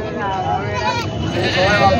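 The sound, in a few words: goats bleating at a goat and sheep market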